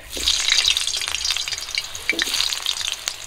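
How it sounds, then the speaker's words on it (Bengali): Potatoes sizzle and crackle loudly in hot mustard oil in a village-style kitchen pan, with a bright continuous frying hiss and occasional stirring scrapes, close by and without talk. "তেল গরম হয়ে গেছে, আলু ভেজে নেব প্রথমে।"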